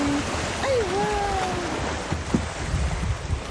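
Waves surging and crashing at Shek O beach, a steady broad wash of surf and wind in the open air with faint voices underneath.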